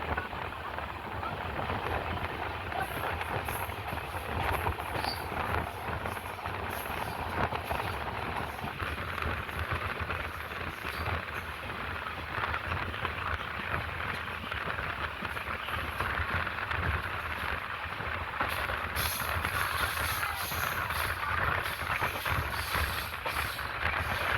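The Mysuru Express runs on rails near Perinad station, heard from inside the train as a continuous, even rumble and wash of wheel and carriage noise, moderately quiet and unbroken, with no talk.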